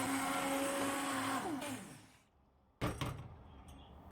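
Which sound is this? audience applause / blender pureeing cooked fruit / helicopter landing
blender pureeing cooked fruit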